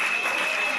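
A congregation at a church service applauds in a dense, continuous burst of clapping, loud and close, with a voice faintly mixed in.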